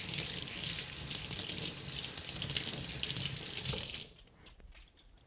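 Corn and other fresh produce being rinsed under a running kitchen tap, a loud steady rush of water for about four seconds that then cuts off, leaving faint drips and handling sounds.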